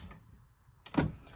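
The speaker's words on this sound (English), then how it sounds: "inside here, I'll just open the door real quick." Inside a studio, a door is opened, giving a short quiet scrape followed by a single sharp thud and rattle from the latch and frame.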